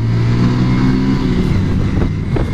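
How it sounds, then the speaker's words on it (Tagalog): A Honda TMX Supremo 2021 motorcycle engine idles steadily up close with a low, even mechanical hum and no talk over it. "sobrang ang tahimik talaga ng makina ng Honda"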